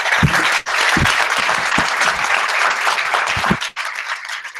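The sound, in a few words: audience clapping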